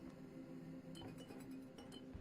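Glass clinking in Starfield, a handful of light, faint clinks spaced unevenly over a low steady background hum, with no speech.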